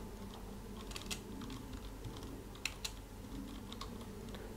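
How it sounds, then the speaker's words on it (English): Keys clatter on a computer keyboard as an email address is typed in, a run of light, uneven taps with a couple of sharper clicks, close and fairly quiet over a steady room hum, no voices. "so here you just type your email here"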